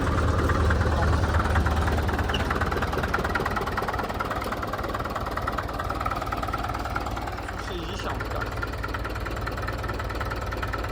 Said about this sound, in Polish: Nie no, silnik ładnie pracuje.